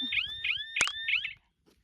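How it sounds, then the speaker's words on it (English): An alarm in Coober Pedy set off by dogs gives four quick rising electronic chirps with a sharp click in the middle, then cuts off into near silence. "They have an alarm. So the dogs trigger that."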